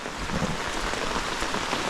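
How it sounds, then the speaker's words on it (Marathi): Steady drizzling rain falls without a break in a Konkan village, a dense, even patter that stays constant and close throughout with no voices. "पाऊस ॲक्च्युली ना जर्राही थांबला नाही आहे नुसता रिमझिम रिमझिम रिमझिम चालूच आहे"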